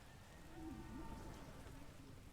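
Freezing Rain spell from the Age of the Ring 8.1 strategy game: a faint, steady hiss of falling rain that swells slightly mid-way, with a soft tonal hum beneath.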